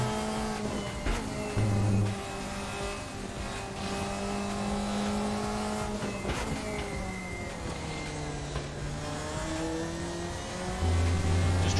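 A race car engine revs hard and accelerates around the Assen circuit in the RaceRoom racing game, with rising and falling pitch through gear changes and brief low rumbles, loud and continuous.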